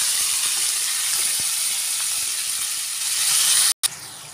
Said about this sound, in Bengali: পেঁয়াজটা হালকা বাদামি করে ভেজে নেব।